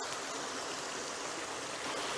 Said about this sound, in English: We've got 7 small waterfalls there